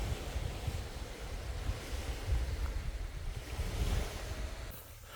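Waves wash onto the seashore of Gwanmaedo island off Jindo while wind buffets the microphone, a steady surging roar that swells and eases over a few seconds.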